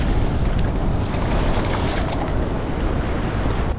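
Ocean waves crash on a windy shore at a fishing camp, a loud, continuous wash of surf mixed with heavy wind buffeting the microphone, with no voices over it.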